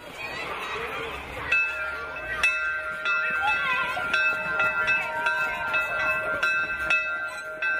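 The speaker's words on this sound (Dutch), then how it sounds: "Schepen van onderwijs Hans Schoofs komt nog een laatste keer de bel luiden" A school bell rung one last time before demolition of a school in Mol Rauw begins, a steady bright ringing tone that holds for several seconds over a murmuring crowd with people talking.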